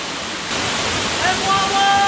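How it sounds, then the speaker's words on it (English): Hen Wallow Falls in the Smoky Mountains, a narrow-topped waterfall fanning out at the bottom, gives a steady broad roar of falling water, close and continuous, with a faint whistle-like tone near the end. "you can tell the span of the falls is very small at the top, and at the bottom here, definitely fans out"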